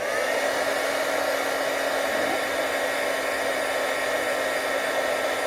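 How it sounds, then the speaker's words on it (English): A heat gun blows hot air in a steady, loud broadband rush with a constant whine, running unbroken for the whole stretch while an earring is held in pliers nearby. "I'm going to hold this with the pliers because a heat gun is very hot, thus the name heat gun"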